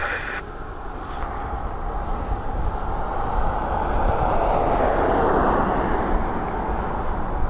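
A Ryanair jet takes off from the north runway at Dublin Airport, a broad steady roar that swells gradually and holds at a constant level throughout, with no voices over it.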